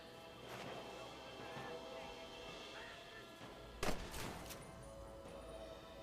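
Gunfire in Red Dead Redemption: a sharp, loud shot cracks out midway against a low background, followed by a couple of quicker, fainter reports.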